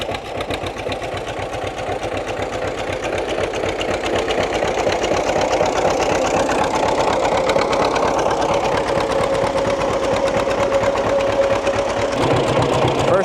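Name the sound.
John Deere tractor engine running while cultivating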